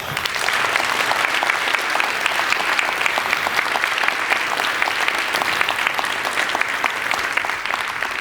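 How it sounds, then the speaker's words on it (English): Sustained audience applause at a gold-market conference address in Singapore, a dense, steady wash of many hands clapping at even loudness throughout with no speech over it. "I want to ask everyone to join me in a round of applause for Albert."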